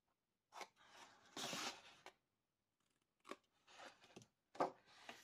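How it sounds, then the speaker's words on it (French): Paper glue tab being bevelled with scissors: several short crisp snips and rasping cuts in separate bursts, close and fairly quiet, with pauses between them. "Je vais biseauter le pad d'encollage."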